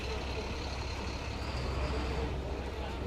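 Reserve buses pull in at Speonk station for a Long Island Rail Road passenger transfer, a low, distant engine rumble with a faint hiss, steady and fairly quiet.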